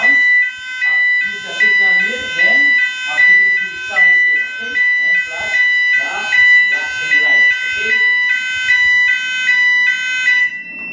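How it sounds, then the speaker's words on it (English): A fire alarm sounder blares a loud, high electronic tone, pulsing in a steady repeating pattern roughly once a second. "This sounder will give you sounds plus the flashing light"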